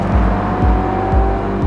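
Engine of a SEAT Leon SC hums steadily under load, a loud, close, continuous drone with a low rhythmic pulse repeating about every half second, with no talk.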